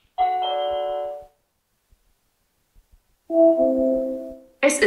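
A Google Nest Hello video doorbell rings through a Google Home Mini smart speaker: two separate sustained chime tones, the second followed by a brief burst of another sound, all clear and close with a gap of quiet between them.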